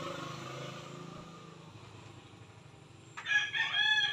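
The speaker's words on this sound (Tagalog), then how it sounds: "Ay, manok. May manok pa pala." A rooster crows near the end, a loud, drawn-out cock-a-doodle-doo that breaks out of a quiet outdoor background after several seconds of low ambient sound.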